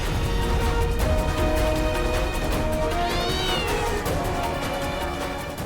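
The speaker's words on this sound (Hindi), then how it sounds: "थैंक यू भोलेनाथ, आपने बिल्ली भेजकर हमारी मदद कर दी" A cat meows in a Hindi TV drama scene, giving a drawn-out caterwauling cry over a busy background of music and room noise, with no speech.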